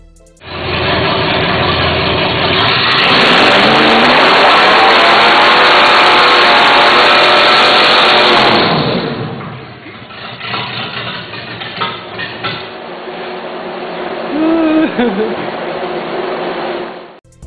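A 1965 Chevy C10 truck engine revs loud and close, a sustained high roar for several seconds that then drops back to a rougher, uneven idle with smaller blips.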